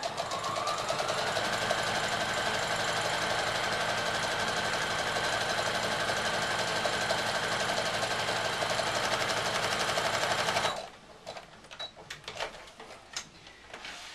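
A sewing machine stitches a fabric dog-shaped draught excluder in a fast, even, loud mechanical whir for about ten seconds, then stops, leaving scattered handling clicks and rustles.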